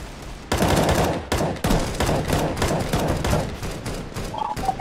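Rapid bursts of automatic gunfire in a video game, dense, loud and close, with brief pauses between volleys and a short electronic tone near the end.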